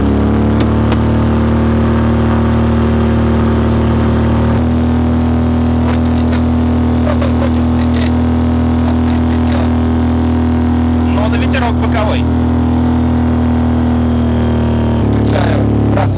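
A light aircraft's propeller engine drones loudly and continuously, close to the microphone, with small shifts in pitch, while a pilot talks intermittently over the noise.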